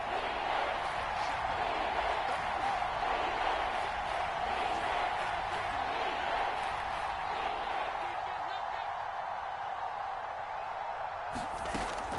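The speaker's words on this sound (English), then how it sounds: "the crowd getting into it as we come up on a big third down" A stadium crowd in an American football video game roars in a steady, broad wash of cheering building toward a big third down, heard continuously under commentary.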